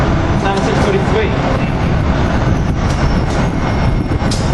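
A Keystone train led by cab car 9643 rolls into 30th Street, its steady, loud rumble and rail noise filling the whole stretch, with talk over it.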